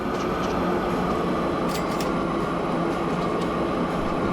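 Steady loud rumble and hiss of a train running in the video game Train Fever, a continuous rail noise with faint metallic squeals and no talking.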